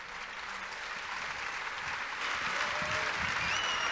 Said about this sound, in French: on aimerait que vous soyez encore une fois applaudis